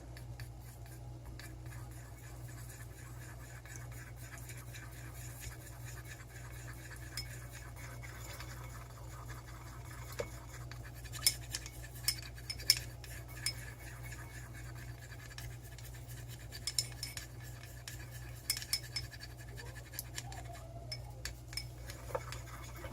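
A utensil stirs an oil mix into hot, melted beard balm wax in a container, giving soft continuous scraping with scattered small clinks against the side over a low steady hum.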